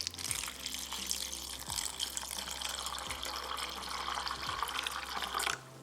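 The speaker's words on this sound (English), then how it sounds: "Enough water, almonds soak inside the water." Water runs steadily from a tap over almonds being soaked, a continuous bright rushing pour with faint low thuds, ending abruptly as the flow stops.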